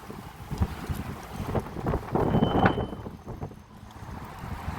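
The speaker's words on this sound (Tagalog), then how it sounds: "Grabe hangin" Strong gusts of wind buffet the microphone, a rough, roaring rumble that swells and eases.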